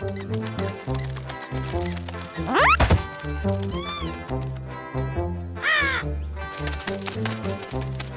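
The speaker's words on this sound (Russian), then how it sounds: "ворона прокаркала" A crow caws in the Russian animated cartoon Mimimishki. Its harsh calls sweep over loud, busy cartoon music, with no talking.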